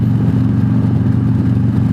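Harley-Davidson Freewheeler trike with dual exhaust, riding along with a steady low engine rumble, loud and close and continuous throughout, with no talk over it.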